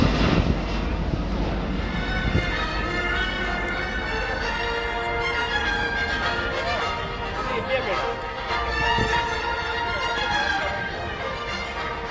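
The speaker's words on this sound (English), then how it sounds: "The Airbus 330-900, which is being displayed here at Aero India, is the MSN 1795" An Airbus A330-900 flight test aircraft makes a display pass at the Aero India 2019 airshow, a broad sustained jet roar heard from a distance for the whole stretch, with announcer-style speech running over it.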